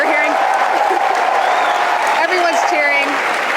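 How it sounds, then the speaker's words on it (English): A crowd at SpaceX launch control cheers and applauds during the SES-9 launch, a dense, steady roar with voices rising through it the whole time. "everyone's cheering"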